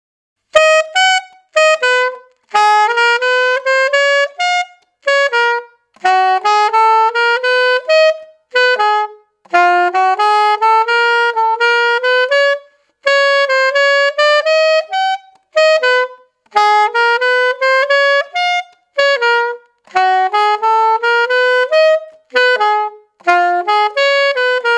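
Alto saxophone plays a phrase alone, a string of short, clear melodic phrases separated by breaths, close and fairly loud, with no backing or voices.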